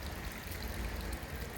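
A small stream near a river on Mount Daraitan runs with a continuous dense gurgling wash, close and steady across the whole moment.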